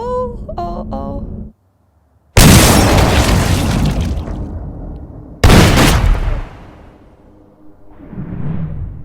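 Gunshots in the film Drive: two loud, close blasts crack out, each decaying into a long booming tail, after a brief tonal sound and a moment of near silence, with faint low rumble after.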